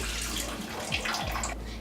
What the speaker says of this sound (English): If the faucet's open all the way, the glass will fill quickly